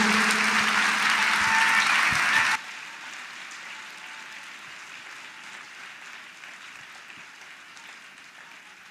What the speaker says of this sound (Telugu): చప్పట్లు కొడుతూ బిగ్గరగా.